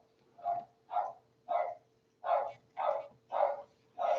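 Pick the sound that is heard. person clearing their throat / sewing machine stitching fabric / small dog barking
small dog barking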